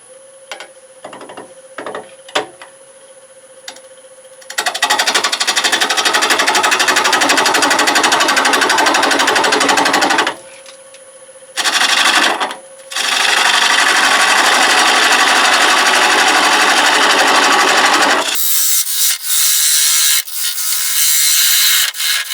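Walnut candy dish being hollowed on a wood lathe, with long sustained bursts of loud gouge cutting broken by short pauses and spindle hum between passes.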